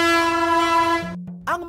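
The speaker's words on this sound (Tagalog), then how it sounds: "Silipin natin ang makabagong busina ng tren ngayon." A loud, sustained modern train horn blares steadily, then drops to a lower tone and fades out, followed by a brief rumble.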